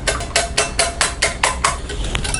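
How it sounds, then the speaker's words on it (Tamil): Eggs whisked with chilli powder and turmeric in a bowl for an omelette, giving a quick run of sharp, evenly spaced clinks of a utensil against the bowl, close and alone. "இதையும் சேர்த்து நல்லா பீட் பண்ணிக்கலாம்."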